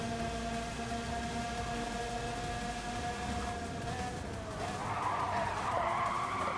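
A race car skids and flips off the track in Gran Turismo 7 at the Eiger Nordwand circuit, with a sustained tonal tire squeal and engine whine that gives way to a louder rough scraping burst near the end.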